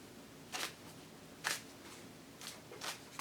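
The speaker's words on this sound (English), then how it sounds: "Well, I'm shuffling the wrong cards." Tarot cards shuffled by hand during a reading, with about four soft, brief riffling bursts spaced unevenly against quiet room tone.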